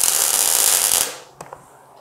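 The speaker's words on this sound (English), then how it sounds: "So I'm going to get this tacked down here and then fit the rod into place." A brief tack weld joining a steel rod to the wire body frame of a scratch-built 1940 Ford coupe-style car gives a loud, crackling hiss lasting about a second, then a couple of faint knocks follow in near silence.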